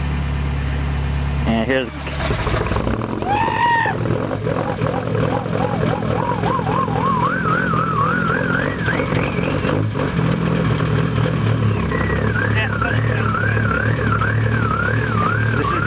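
Cold start of a worn VW TDI diesel with 300,000 km on it, run through dual 3.5-inch exhaust tips after a mufflerectomy: a steady, loud low rumble and drone throughout, with someone talking over it and some whistling tones.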